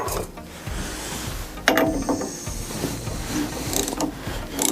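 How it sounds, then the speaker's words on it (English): A socket wrench turns an engine over by hand, giving steady mechanical ratcheting clicks and scraping, close and moderately loud, with a sharper clack partway through. "I'm actually able to turn this just by putting the socket up here and turning it."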